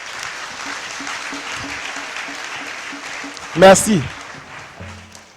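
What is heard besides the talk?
congregation applauding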